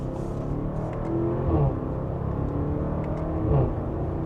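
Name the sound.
SUV sport exhaust under mild acceleration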